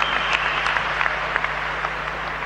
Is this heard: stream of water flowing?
no